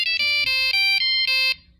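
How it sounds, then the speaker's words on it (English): A phone ringtone plays a bright electronic melody, with several short chiming bursts in quick succession, loud and close, before it fades out. No one speaks over it. "There's my phone ringing, I think."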